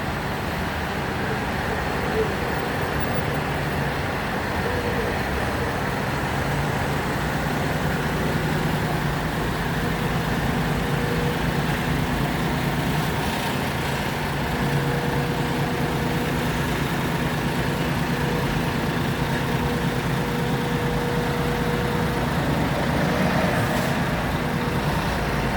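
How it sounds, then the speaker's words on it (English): A John Deere tractor at a fuel protest of tractors in Mallow, County Cork, its diesel engine droning steadily and mixed with constant roadway and idling engine noise throughout. "Nice John Deere there."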